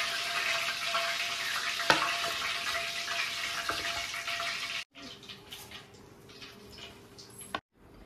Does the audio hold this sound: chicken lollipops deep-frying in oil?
yes